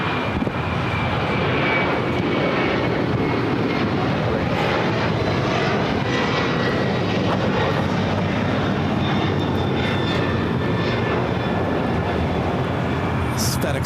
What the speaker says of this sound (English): We got a FedEx 767-300 freighter heading to Fort Worth. They're in Texas, flight 1100. Next takeoff.